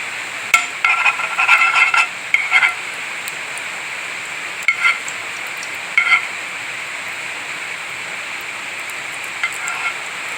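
Ghee heats in a pan on a gas stove, ready for frying potatoes, with short bursts of crackling sizzle that come and go between quieter stretches; close and moderately loud.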